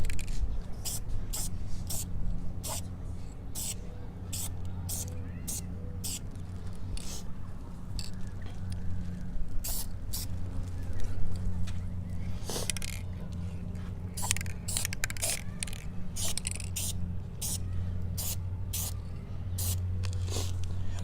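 Aerosol spray paint coating car exhaust tips black in repeated short hissing bursts, with irregular pauses between them over a steady low background hum.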